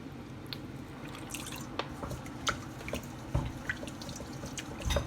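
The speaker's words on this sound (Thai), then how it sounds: "แล้วก็ใส่น้ำปลาลงไปอีก" Fish sauce poured in while mixing a Thai khanom jeen noodle salad: a soft trickle with scattered small drips and light wet splashes, close and fairly quiet, with no talk.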